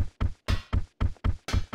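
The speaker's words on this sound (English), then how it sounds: "those thudding noises" Heavy, muffled thuds from a gas-leak area in Resident Evil: Code Veronica, pulsing at a steady rhythm like a loud heartbeat, about seven beats in under two seconds, close and alone with no talk.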